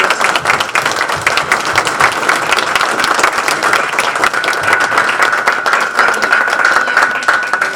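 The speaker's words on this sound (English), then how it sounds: "So please give a warm round of applause for Juan" Warm applause from a Rotary Club audience at an officers' installation evening, dense steady clapping sustained for several seconds at even loudness, with no voices over it.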